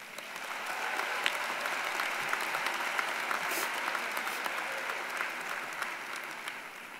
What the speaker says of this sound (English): So family and friends, give yourselves a round of applause.